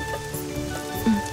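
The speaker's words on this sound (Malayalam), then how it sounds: "നേരം കെട്ട നേരത്തൊരു മഴ." Rain pattering down outdoors, a steady soft hiss of drops on surfaces with scattered louder taps, moderately close and without talk over it.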